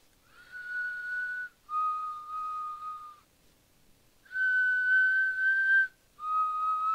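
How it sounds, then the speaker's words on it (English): Eerie, steady whistled tune in four sustained phrases, clear and alone against near silence, with short gaps between the held notes. "And the whistling."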